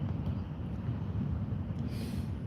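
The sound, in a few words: wind noise on outdoor microphone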